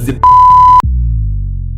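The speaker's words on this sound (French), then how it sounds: "Pendant que je bossais dur, j'entends une notification." A short electronic sale notification chime: one steady, loud tone held for about half a second, then a lower ringing decay that fades slowly, with no voices.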